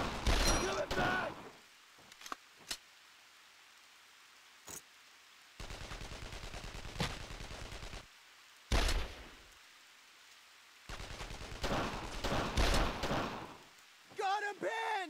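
Bursts of automatic gunfire and shots in the World War II shooter Brothers in Arms: D-Day, coming in loud separate volleys between quiet gaps, with game voices briefly shouting near the end.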